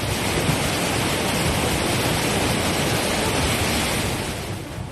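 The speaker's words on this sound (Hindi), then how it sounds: "पहली तस्वीर में नदी में पानी का डराने वाला शोर है।" The flooded Kali river in Pithoragarh, Uttarakhand, roars with a dense, steady rush of turbulent water, loud and continuous with no voices.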